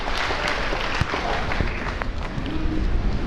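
Audience applause breaks out, a dense, sustained wash of clapping that stays steady and fairly loud throughout, with a few sharper claps poking through.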